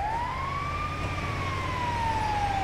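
An ambulance siren wails in GTA V, a steady rising and falling tone sounding loud and close over a constant background rumble.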